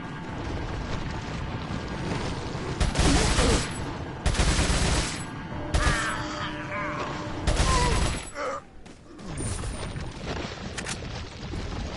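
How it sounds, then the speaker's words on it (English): Machine gun bursts crack in Resident Evil 4 in several separate loud volleys, layered over game effects and background noise, while someone talks at intervals between the shots. "I'm actually going for a machine gun because I've got loads of that ammo"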